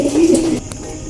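Racing pigeons coo in a low, close, rolling call lasting about half a second, then fade into quiet ambient noise with no voices.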